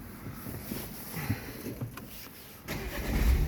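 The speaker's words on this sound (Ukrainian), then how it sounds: "Заведемо автомобіль." Renault Megane 3 BOSE Edition hatchback being started with its start-stop button: a steady mid-level engine rumble that builds toward the end, recorded close with no talking.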